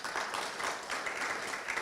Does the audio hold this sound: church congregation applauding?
yes